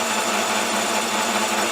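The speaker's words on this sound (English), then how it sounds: "The machine I'm using here is a Grizzly Model 9729. And it's a combo lathe" Grizzly Model 9729 combo lathe machining a part's end to a shiny finish, a steady, dense mechanical whir and hiss running continuously and fairly loud, with no talk.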